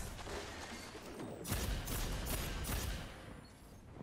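Thorn hand cannon shots in a Destiny 2 player-versus-player match crack out in a quick cluster of loud, close reports over steady background game noise, then the firing stops.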